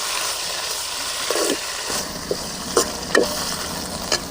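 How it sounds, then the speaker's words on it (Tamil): Appakovai greens sauté in hot oil, giving a steady close sizzle broken by a few clinks and scrapes of a stirring spoon against the pan. "நல்லா எண்ணெயில் கீரை கொட்டி நல்லா எண்ணெயிலே வதக்க வேணும்."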